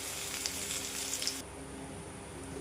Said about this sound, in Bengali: উচ্ছে আলুগুলো কড়াইতে দিয়ে দিচ্ছি। এবার ভালো করে ভেজে নেব লাল লাল করে।